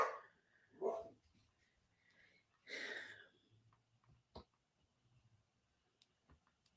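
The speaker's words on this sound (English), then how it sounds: "Maybe that's what he's barking at." A dog barks a few times, two or three separate woofs spaced seconds apart and fairly faint, with quiet stretches and small knocks between them.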